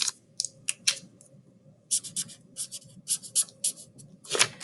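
A pen scratches across paper while notes are written, in short bursts of strokes with brief pauses between them, close and clear with no talking.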